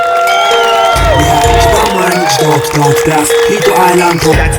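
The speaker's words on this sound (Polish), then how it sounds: "Wielkie brawa." A crowd cheers and applauds at an awards ceremony of the Aka Shiro'25 event, a loud, continuous wash of voices and clapping with music playing prominently throughout.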